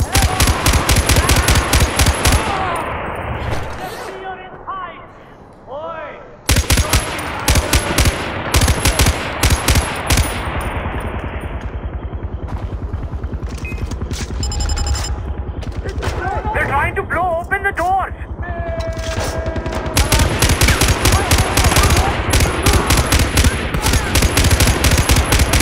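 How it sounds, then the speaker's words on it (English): Heavy automatic gunfire from Far Cry 4 hammers away in long, loud bursts with a few brief pauses, and a voice speaks under the shooting. "I can't be the only one shooting at him"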